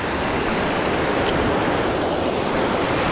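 Ocean waves surge against a fishing boat out at sea during net fishing, a loud, continuous rushing wash with wind noise and no break across the whole stretch.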